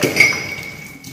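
Dishes and utensils clink together in a sink while being washed by hand at home, a sharp ringing strike near the start followed by a short fading rattle, close and fairly loud.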